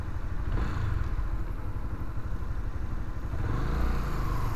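Motorcycle engine running steadily up close during a city ride, a continuous low rumble with wind noise, with no clear rev rise visible.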